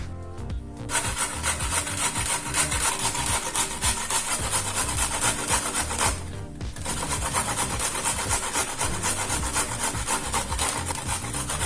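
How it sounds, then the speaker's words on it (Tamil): Continuous rough rasping of Indian gooseberries scraped against a grater, steady back-and-forth strokes with one short pause midway, close and fairly loud. "முதல்ல நெல்லிக்காயை துருவிக்கலாம்."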